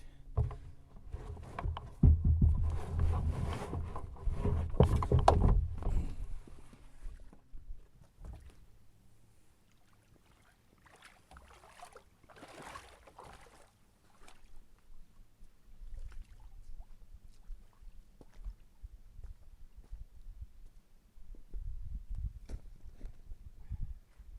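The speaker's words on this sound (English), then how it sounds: "That was literally a 300 meter paddle across the little lake or pond" Canoe paddling across a small lake in Woodland Caribou, with a flurry of splashing and knocking strokes early on, then quieter intermittent water sloshes and paddle dips, close and unaccompanied by talk.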